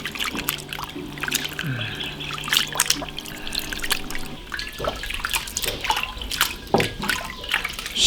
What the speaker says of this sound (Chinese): 给它洗一下， 把它血水洗出来。